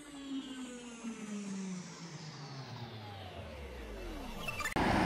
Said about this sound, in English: excuse the noise or the traffic